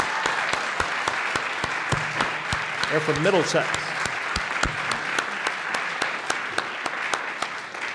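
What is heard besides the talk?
audience applause at fiddlers variety show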